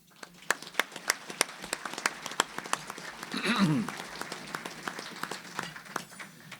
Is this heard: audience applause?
yes